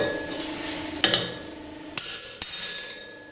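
A hammer knocks a wheel bearing out of a wheel hub in three sharp metallic strikes spaced about a second apart, each ringing out briefly up close, with no talk.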